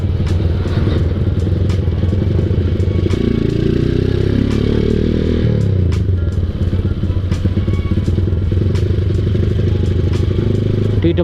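Honda Tiger motorcycle ridden through city traffic, its engine droning steadily and loud close by, with a rev swell midway and road clatter and rattles throughout.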